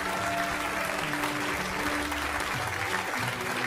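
Audience in a concert hall applauds at a music competition final as award certificates are held up, a steady even wash of clapping, fairly loud with no speech.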